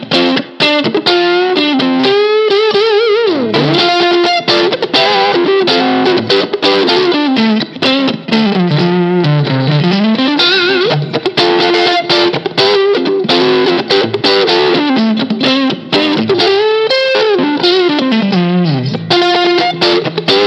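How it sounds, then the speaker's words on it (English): An electric guitar, a Rob Williams Classic 57 on its neck and middle pickups, plays a Texas blues line with a loud overdriven tone, bending notes and phrases continuously for twenty seconds with no talking. "the neck and the middle pickup give you a real kind of Texas blues sound"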